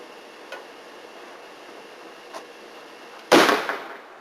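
A single sharp bang from a mini cannon fired for the Fourth of July, loud and close, after a couple of faint ticks in a quiet background.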